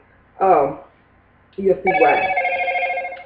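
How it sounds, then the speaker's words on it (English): A telephone rings loudly in a quiet room, one burst first and then a longer sustained electronic ring, with a person speaking briefly just before it. "That's the phone."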